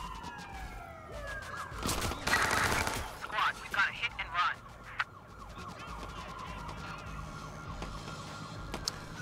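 Shotgun blasts in Watch Dogs 2, a loud cluster of several booming shots mid-clip, set against wailing police sirens and street noise.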